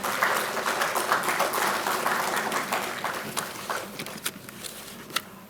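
An audience at the inauguration of an international conference at Pondicherry University applauds the organizers, with dense clapping that gradually thins into scattered individual claps toward the end.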